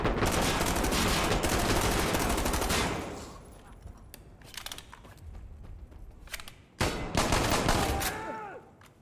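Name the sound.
gunfire from a video game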